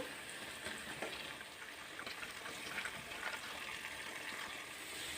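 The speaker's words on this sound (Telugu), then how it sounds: "ఉల్లిపాయ దూరగా వేగిపోయిందండి ఇప్పుడు ఇందులోకి ఉడికించి పెట్టుకున్న క్యాబేజీ పచ్చిశనగపప్పును వేసుకుంటున్నాను" Cooked cabbage and chana dal go into a pan of frying onions, and a faint, steady sizzle and crackle of oil follows, with soft stirring and no voices.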